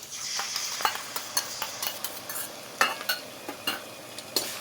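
Chili chicken in sauce is stirred in a pan over a high flame, with a steady sizzle under repeated scraping clinks from a spoon at an uneven rhythm, close up and moderately quiet.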